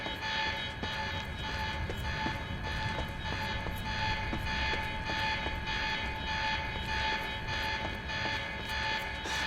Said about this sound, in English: The alarm must have locked everything down.